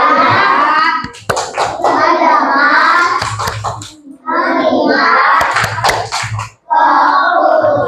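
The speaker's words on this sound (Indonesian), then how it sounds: "Oke, tepuk fokus." Children in a classroom perform a rhythmic focus clap, chanting together between sharp bursts of synchronized hand claps that come in short patterned groups with brief pauses.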